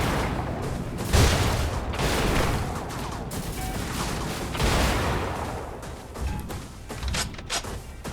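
Dense artillery and weapon fire in the mech combat game Brigador, a steady rumble of booms and blasts with a heavy thump near the one-second mark and scattered sharper hits toward the end.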